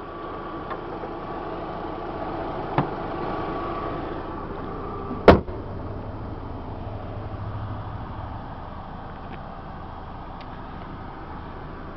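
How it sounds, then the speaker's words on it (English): A 1998 Volkswagen Beetle with a 4-cylinder engine and five-speed manual idles quietly and evenly, a low steady hum close by, broken once by a sharp knock midway. "The engine is a 4-cylinder, nice and quiet, running well"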